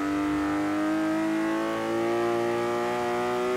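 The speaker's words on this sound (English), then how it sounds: "That straight 6 noise as well. Kind of sounds similar to a little bit of a E46, but a bit more growly." A TVR Sagaris straight-six engine in the Forza Horizon 3 racing game revs steadily and growls under load, a loud, continuous rising engine tone with no speech over it.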